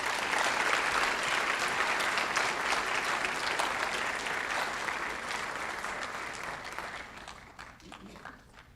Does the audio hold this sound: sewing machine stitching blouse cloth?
no